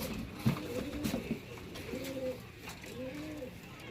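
Several pigeons coo close by in soft, rolling phrases, with three or four throaty bursts spread across a few seconds against a faint rustling background.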